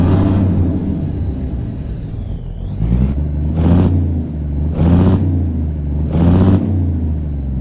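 A Cummins N14 truck engine roars up through repeated pulls, heard from inside the cab with the windows up, with a steady fan whir and a high whooshing turbo whistle rising and dipping through each surge; no one speaks.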